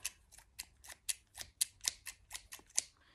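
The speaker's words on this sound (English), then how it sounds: "But these are some really rusty scissors." Rhythmic metallic snips repeat about a dozen times, crisp and close, each with a scraping squeak of the blades opening and closing.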